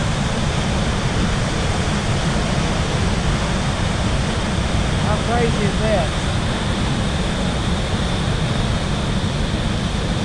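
Steady broadband rushing of a waterfall in Yosemite National Park fills the whole stretch, loud and continuous, with someone speaking briefly over the roar.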